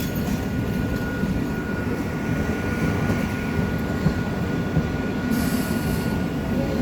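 A train rolls slowly into Amghata station on the Krishnanagar–Amghata line, with a steady, close rumble of carriages and wheels and a brief higher squeal near the end.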